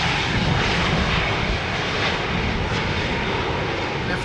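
Steady, loud roar of an airliner engine at Schiphol Airport, a dense continuous rumble holding constant throughout with no talk over it.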